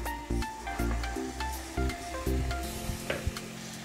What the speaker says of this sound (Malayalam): ഒരു രണ്ട് മിനിറ്റ് നേരം നമുക്ക് ഈ മസാലയിൽ ചെമ്മീൻ ഇങ്ങനെ കിടന്നൊന്ന് വേവാൻ വേണ്ടി അനുവദിക്കാം